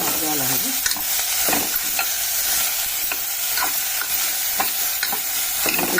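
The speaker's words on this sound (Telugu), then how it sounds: "కలుపుకొని మంచిగా మగ్గ తీయాలండి నూనెలో" Ivy gourd (dondakaya) curry fries in oil with a steady sizzle, broken by a spatula scraping and stirring the pan at roughly regular intervals, close up with no talking.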